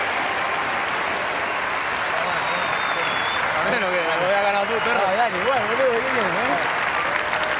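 Sustained applause from a tennis crowd at Monte Carlo after a semifinal match ends, a dense steady clatter of clapping throughout, with a commentator's voice talking over it.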